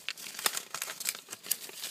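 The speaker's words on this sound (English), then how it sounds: "they were just these plastic bags, and they were stuffed in there" Plastic bags from a parcel are handled up close, giving a steady stream of sharp crinkles and crackles with no voices.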